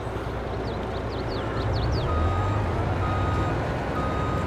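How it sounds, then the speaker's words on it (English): Reversing beeps from a flour truck in Farming Simulator 22 sound as a quick series of high, repeated chirps in the first couple of seconds, over a steady low engine hum that carries on alone afterward. "Let me move my truck of"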